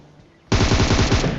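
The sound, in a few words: gunfire in the video game PUBG Mobile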